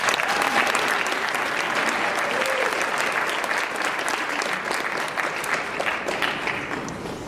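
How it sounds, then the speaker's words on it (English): An audience claps steadily and warmly, a dense wash of applause from many hands that eases slightly toward the end. "to greet them with our applause."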